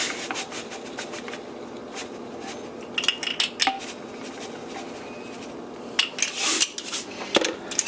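Cayenne, kosher salt and black pepper stirred together in a small dish, soft rubbing and scraping with a few sharper clinks of a utensil, close and fairly quiet, with no one speaking.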